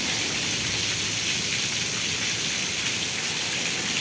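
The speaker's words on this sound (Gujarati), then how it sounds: "ભૂક્કા હો ભાઈ વેદળકા ગામમાં વરસાદ." Heavy rain pours down in Vejalka village during a windy storm, a dense, steady roar of downpour that stays loud and unbroken throughout with no voices.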